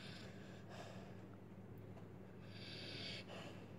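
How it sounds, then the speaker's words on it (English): A large XXL-breed dog snores steadily nearby, with repeated snorting breaths rising and falling alone against a low background hum. "You hear him snoring?"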